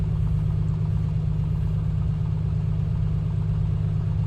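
A steady, low droning engine rumble from a Comanche 250 in the A2A flight simulator, heard from inside the cockpit with a constant throbbing tone and no talk.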